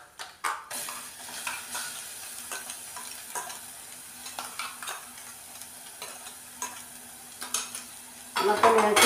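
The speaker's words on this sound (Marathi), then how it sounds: "हे मसाला वाटलेला टाकून घेऊया आपण." Ground masala paste fries in hot oil and is stirred with a spoon in a pan while egg curry is being made, giving a steady sizzle broken by regular scraping strokes that grow louder near the end.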